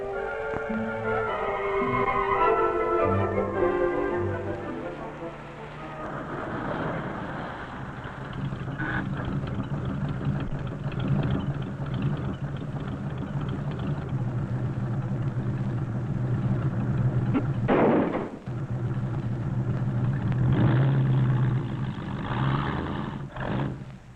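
A car engine races hard to overtake an old jalopy, a loud sustained roar that rises and holds with shifting pitch, joined by a second engine drone and a brief sharp burst midway, with no voices.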